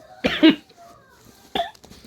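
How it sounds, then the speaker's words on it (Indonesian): A teacher giving a quadratic equations lesson coughs twice in quick succession, then coughs again more briefly a second later. The coughs are close and fairly loud over quiet room sound. "Maaf ya, terbatuk-batuk jadinya."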